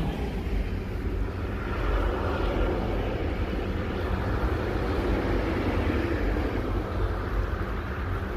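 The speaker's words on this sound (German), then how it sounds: "Und da kommt er, der nächste Zug." A steady, broad rumble of a train rolling past continues without letup, heavy low-end roar with a hiss on top, fairly close and constant.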